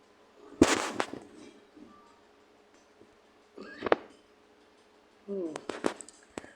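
Explosions in a Roblox video game, heard as a sharp loud burst with crackling debris, then a second smaller blast and a cluster of rapid pops near the end, separated by quieter stretches.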